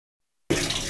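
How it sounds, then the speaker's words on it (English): Water from a burst pipe pours steadily in a library building, beginning suddenly halfway through and running as a continuous close rush. "Water is still pouring, dripping, and seeping into the second floor"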